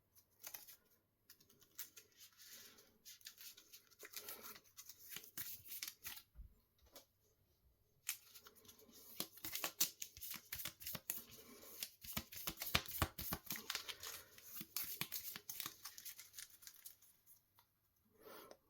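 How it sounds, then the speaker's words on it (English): A deck of cards is shuffled in a quiet room, with soft, rapid riffling and clicking bursts, starting sparse and growing into a denser flurry of close, faint card taps. "We shuffle the deck"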